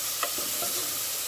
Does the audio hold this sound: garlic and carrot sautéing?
yes